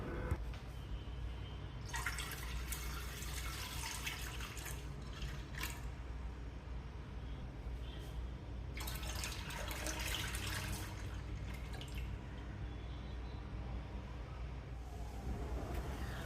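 Cow's milk, 1.5 litres, poured into a large pot for milk halwa, a soft steady liquid pour with bursts of splashing, heard alone without talk.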